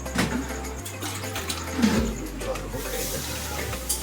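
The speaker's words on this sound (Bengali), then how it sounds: "জলের মাপটাই মেন জল দিয়ে দেবো আমি" Water is poured into a pot of mutton curry with a steady, close splashing gush, and a low background rumble runs underneath.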